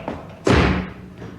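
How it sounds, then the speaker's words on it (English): A door is banged shut in a radio drama, a single heavy, close slam with a booming low thud that rings briefly and fades. A faint voice can be heard just before it. "He's banged the perishing door on us"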